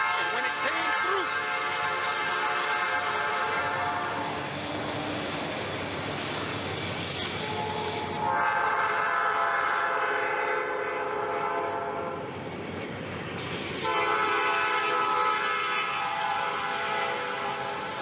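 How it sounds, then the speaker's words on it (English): Train horn blowing in long sustained blasts, separated by brief dips, with rumbling rail noise beneath, fairly loud and steady throughout. "And so as you hear the train blowing"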